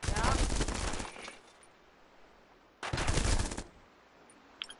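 Two loud bursts of automatic gunfire, fired from the hip in the video game Jagged Alliance, each last over a second with a quiet gap between them.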